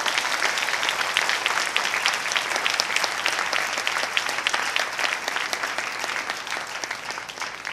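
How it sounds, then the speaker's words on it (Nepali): A church congregation claps steadily in thanks to God, a dense, continuous wash of many hands at even volume with little else heard. "हालेलुया परमेश्वरलाई ताली बजाएर धन्यवाद दिउ"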